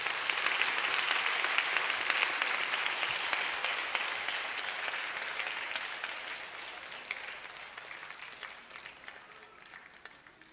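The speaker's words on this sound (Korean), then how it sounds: "뜨거운 박수가 필요합니다." Warm audience applause in a Korean church gathering as three young brothers, twins and an older boy aged 8 and 11, come forward to recite Proverbs chapters 1 and 2 in English; dense, steady clapping from a large crowd, slowly fading over ten seconds.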